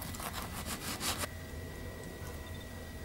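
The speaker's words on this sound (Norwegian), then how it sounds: "Vi ser om vi klarer å skjære en liten skive her." A knife saws through a loaf of gluten-free carrot bread in a quick series of close, rasping back-and-forth strokes that stop after about a second, leaving quiet room tone.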